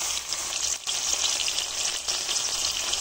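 Ginger, garlic and cumin paste hits hot oil with lightly fried potatoes, giving a bright, close sizzle with crackling spatter, a brief dip near the start, then steady frying with no voices.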